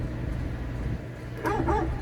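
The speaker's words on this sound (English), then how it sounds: "And there's the doggo." A dog barks a few times in The Last of Us Part II, short yips arriving near the end after a low ambient game rumble.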